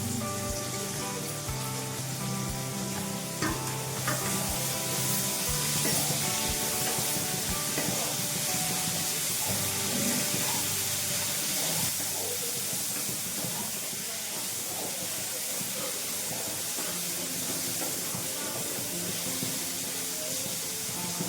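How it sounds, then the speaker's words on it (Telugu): Potatoes frying in hot oil in a pan, a steady dense sizzling hiss that holds throughout, close and even, with faint kitchen clatter and no speech. "ఫ్రై అయిందండి, ఆలు వేస్తున్నాను"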